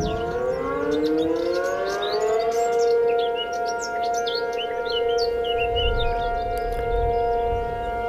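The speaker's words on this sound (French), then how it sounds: "Des premières sirènes qui se déclenchent." Tornado warning sirens wail in a Minecraft weather world, long rising and steady tones sounding continuously and loudly throughout, with chirping birds scattered above and no talking.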